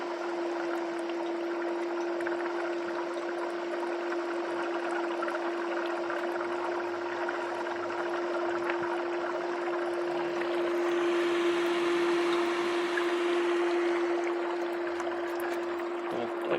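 An HHO hydrogen generator runs at 10 amps, giving a steady electrical hum under a soft, continuous fizz of bubbling. The fizz swells a little louder toward the end, with no talk.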